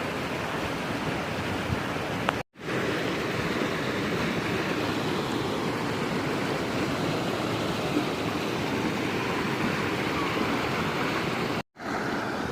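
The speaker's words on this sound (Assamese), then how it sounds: "এইফালে চাওক কেনেকুৱা ধুনীয়াকৈ একদম পানী গৈছে" Clear water flowing in a stream at Kaziranga, a steady close rushing wash with two brief dropouts, no talk.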